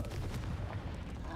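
A Confringo spell blast cast in Hogwarts Legacy on Nintendo Switch, a dense, booming burst that rumbles steadily through the whole short moment amid busy game noise.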